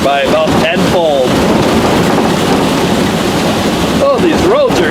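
Heavy rain pours steadily on a vehicle driving home through New York. The dense, loud hiss lasts the whole stretch, and brief voices are heard near the start and end.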